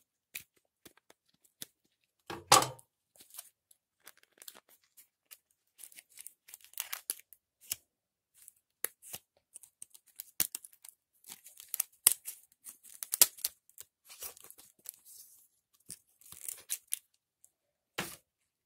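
Adhesive tape on an Epson L800 printer head is carefully cut, with a sharp tearing burst early on followed by scattered crinkling, snipping and handling noises, close and fairly quiet, with pauses between.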